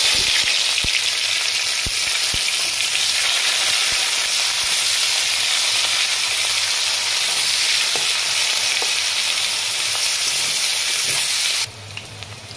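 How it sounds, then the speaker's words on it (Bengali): Onions fry loudly in hot oil in a pan where meat was just cooked, a dense close sizzle with occasional stirring clicks, continuous for about twelve seconds before easing slightly at the end. "পেঁয়াজগুলো আমার অর্ধেক ভাজা হয়ে গেছে,"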